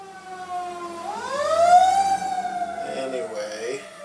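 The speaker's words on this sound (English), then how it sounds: "And now there's fire engines driving by during my vlog." Fire engines drive by on a rainy day with a wailing siren that rises and sweeps past close by over a low engine rumble, with a faint second tone toward the end.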